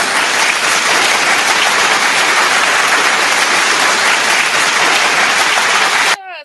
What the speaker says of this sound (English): Let's get a round of applause going on.